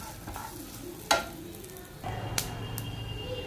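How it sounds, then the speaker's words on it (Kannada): Coriander seeds with a few fenugreek seeds roasting in a pan, a steady dry sizzle and rustle with occasional sharp clinks of a spoon against the pan, close and moderately loud. "ಇವೆಲ್ಲನೂ ಕೆಂಪಗೆ ಹುರ್ಕೋಬೇಕು, ಬ್ರೌನ್ ಕಲರ್ ಬರೋಣ"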